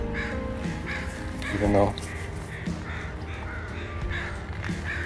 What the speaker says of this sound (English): Oh, we got an American crow and a yellow rump warbler.